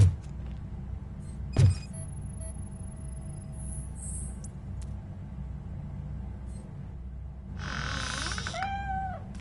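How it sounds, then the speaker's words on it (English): Cat meowing in RoboCop: Rogue City, a couple of short, clear meows near the end over a low, steady ambient hum, with a sharp knock earlier. "The cat is fine."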